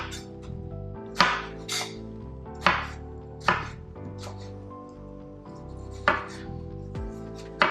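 A big firm tomato being cut on a board, with about eight sharp knife chops spaced irregularly and heard close and clear, with no one talking.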